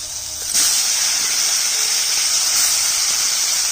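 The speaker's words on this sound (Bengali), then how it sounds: "শাকটা দিয়ে দিচ্ছি" Bottle gourd greens land in a hot pan over fried potato and eggplant with a little turmeric, setting off a sudden loud hiss of steam and sizzle that holds steady to the end.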